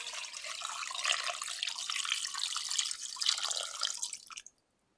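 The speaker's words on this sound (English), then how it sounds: "I'm going to add some water." Tap water runs steadily into a cooking pot for peas and pigtail in a home kitchen, a continuous splashing stream that stops abruptly near the end.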